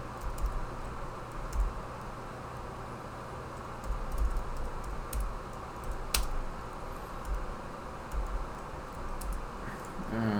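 Computer keyboard typing runs steadily for about ten seconds, a close, continuous patter of key clicks under a low background hum, with no talking.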